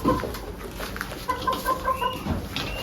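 Large roosters on a family farm clucking in short, scattered bursts, with some bird chatter and background noise around them.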